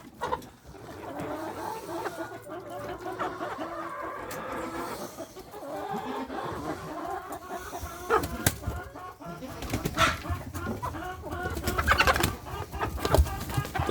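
Backyard chickens on a ranch cluck and squawk in a busy, continuous chorus while pecking at a dish of chicken feed, vegetables and stones, with sharp pecks and scratches and occasional louder calls building toward the end.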